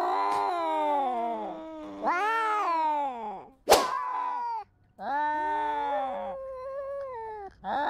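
A cat meows repeatedly and loudly up close, several drawn-out, wavering cries with short gaps, plus one sharp thwack in the middle; no talk.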